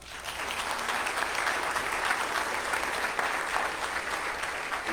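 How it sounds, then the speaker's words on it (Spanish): A church congregation at a Sunday Mass in a Spanish-speaking parish applauds, steady, dense clapping from many hands filling the space for about five seconds, fairly close and even in volume. "Un aplauso una vez más."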